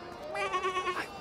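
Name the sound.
sheep bleating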